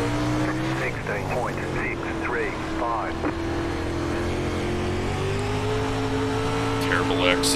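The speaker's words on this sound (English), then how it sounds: "Terrible exit. Spun up the tires." Dirt late model race car engines roaring at Volusia in the iRacing Dirt game, with tires squealing and spinning on the loose dirt surface as the car exits a corner, a steady loud engine drone under chirping skids, with someone talking over it.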